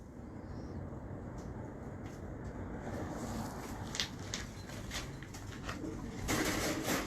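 Pigeons coo softly at a pigeon club in Pakistan, low repeated calls against a steady background hum, with a few brief sharper bird sounds and a louder rustle near the end.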